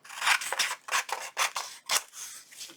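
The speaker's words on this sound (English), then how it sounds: "got the borders trimmed off" Scissors trimming the borders off sheets of paper for a junk journal, a run of about six crisp, rhythmic snips up close, with no voices.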